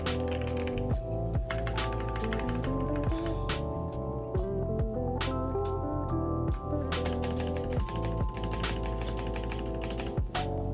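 Typing on a 100 Thieves x Higround mechanical keyboard, a steady flurry of close, crisp key clacks and thocks in quick irregular rhythm over a low constant background hum, with no talking.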